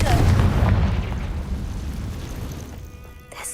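A Confringo blasting spell cast in the Hogwarts Legacy video game lands as one loud, deep, rumbling blast that slowly fades over a few seconds.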